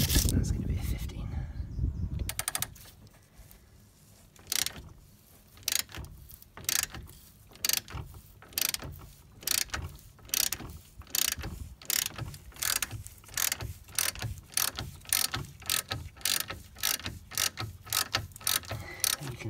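A ratchet socket wrench turns against a rusted nut on the wheel bearing of a Citroën C3 Picasso, giving a steady run of close, rhythmic clicking strokes over about seventeen seconds.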